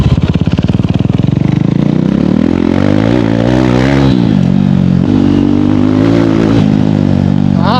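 A KTM Duke 390 engine roars loud and close, its pitch climbing and dipping through several revs, with no voices over it.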